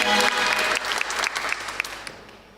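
Studio audience applauding for a Pakistani singer during a talk-show interview, a dense burst of clapping that starts at full strength and gradually fades out.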